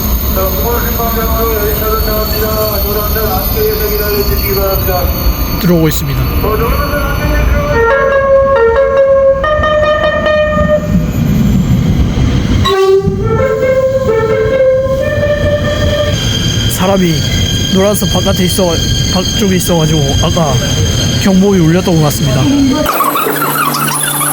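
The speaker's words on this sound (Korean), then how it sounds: "제가 탈 기차가 들어오고 있습니다" A train pulls into a Korean railway station, loud and close, with a long rumble, high metallic brake squeals and a horn-like tonal blast partway through, fading to a lower hum at the end.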